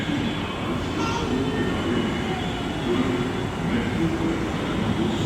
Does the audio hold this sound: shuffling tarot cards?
no